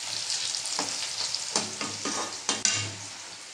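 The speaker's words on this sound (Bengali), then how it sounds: "ততক্ষণ আমি তেলটা একটু খুন্তি দিয়ে নেড়ে নিচ্ছি।" Hot oil in a wok being stirred with a metal spatula, a continuous sizzle broken by repeated scraping strokes and a couple of sharper clanks near the end, close up with no voices.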